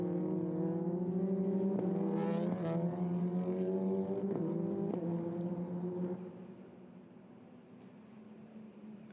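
Race cars, including an Audi, pass on a circuit with a droning engine whine that shifts pitch as they go by, then fades into a quieter distant hum.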